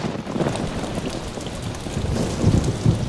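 Steady rain in the Fairy Tale About Father Frost video game, a constant hiss of falling drops with low rumbling swells, heard alone without voices.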